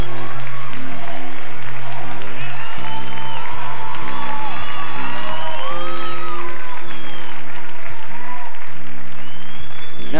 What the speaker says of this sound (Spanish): El aplauso fuerte, Isabel.